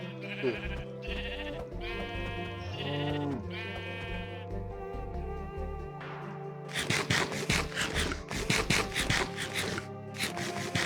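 Sheep bleat repeatedly in the video game Minecraft on a Skyblock server, wavering calls over background music, followed by rapid scraping, rubbing clicks.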